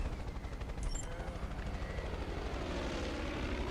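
A helicopter in the shooter game Far Cry 5 thrums with a steady rotor chop and engine roar, loud and continuous throughout, with a brief high electronic blip near the start.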